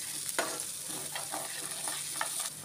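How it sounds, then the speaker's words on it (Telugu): Ginger garlic paste frying in a pan for a chicken dish, a steady close sizzle broken by several soft scraping stirs across the pan. "అల్లం వెల్లుల్లి పేస్ట్ పచ్చి వాసన పోయే వరకు వేయించుకొని"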